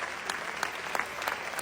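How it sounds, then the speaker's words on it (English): Audience applause, a dense steady patter of many hands clapping at a live comedy podcast taping, with a few sharper claps standing out and no talk over it. "Clapping."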